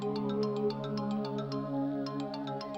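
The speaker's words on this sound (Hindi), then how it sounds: "फोन बज रहा है तुम्हारा।" A phone ringtone plays a bright, repeating electronic melody, steady and fairly close, with no talking over it.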